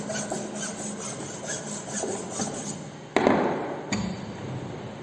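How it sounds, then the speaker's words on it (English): A flat file works the ends of a wooden mortise in a carpentry shop, making close, rapid rasping strokes in a steady rhythm followed by a couple of louder scraping passes. "we are using flat file for finishing the ends of the mortise"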